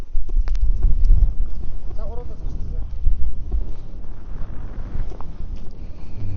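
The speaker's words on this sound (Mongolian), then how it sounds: "Нэлээд салхитай байдаг юм." Wind buffets the microphone with low rumbling gusts throughout on the Khangai Mountains near Otgontenger peak, Mongolia, while faint voices come and go in the background.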